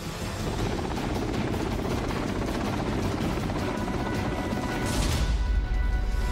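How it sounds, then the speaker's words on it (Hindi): A Russian Ka-52 attack helicopter makes a loud, continuous rotor roar and thump, close and unbroken, with a heavier low rumble swelling at the end. "रूसी सेना का सबसे खतरनाक KA-52 हेलीकॉप्टर एक के बाद एक यूक्रेन के सैन्य ठिकानों को नेस्तनाबूद करता हुआ नजर आया।"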